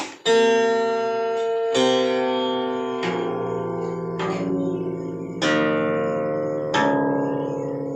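Six guitar strings plucked one at a time, each note ringing out and decaying before the next, clear and close with no talking.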